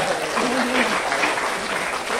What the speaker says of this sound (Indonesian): Tepuk tangan dulu lah buat teman-teman ya.